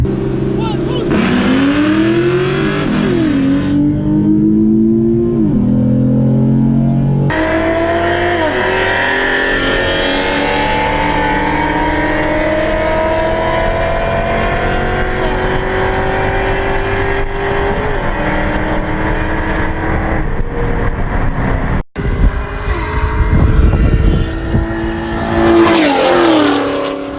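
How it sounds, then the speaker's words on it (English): Mustangs, including a full-bolt-on two-valve car and a V6 model, launch and accelerate hard in a street drag race, engines roaring loudly through rising gear shifts, with voices heard over the engine noise. "currently gonna race full bolts on 2-valve, my homie JD."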